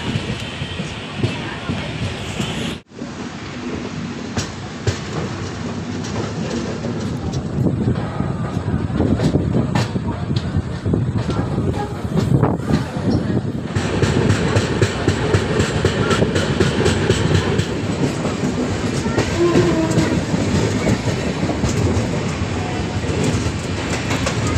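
The Uday Express, train 22665 between Bengaluru and Coimbatore, running on the rails with a loud, continuous rumble and clickety-clack heard from on board, plus gusts of wind noise.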